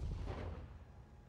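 Heavy weapons fire from battling mechs in the BattleTech video game, a deep rumbling boom that rolls on and slowly fades over a little more than a second, with no speech.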